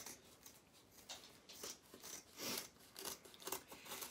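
Scissors cutting around a glued-on paper heart on a Valentine craft bag, a series of soft close snips and crisp paper crunches at an uneven pace, faint and with no talking.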